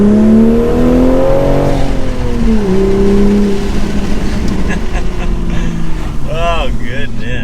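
A Toyota Supra MK5 with a full exhaust and high-flow cat downpipe revs loud and close, its engine tone climbing and falling in sweeping pulls before settling into a rougher rumble.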